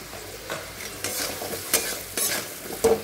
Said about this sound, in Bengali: এখানে হলুদ দিয়ে দিলাম, তো লবণটাও দিয়ে দিই